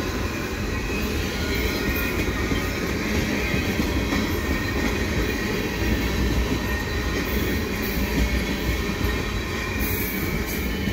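A CN freight train hauling auto rack cars passes at Dorval at night, a loud, steady rumble of rolling wheels with intermittent high squealing and clatter, continuous and close, with no talking.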